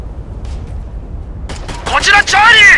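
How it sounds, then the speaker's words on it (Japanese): Gunfire in the war game Operation Flashpoint: Red River: a few sharp distant shots and booms, followed by a loud burst of shooting mixed with voices talking. "銃声だ。"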